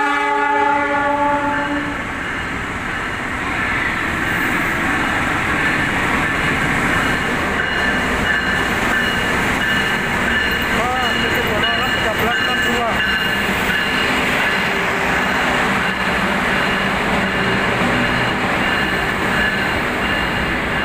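Arjuna Express passenger train from Surabaya Gubeng to Malang, led by a locomotive: a horn blast opens, then a loud continuous rumble and clatter of wheels on rails with faint squeals as the train rolls past close by.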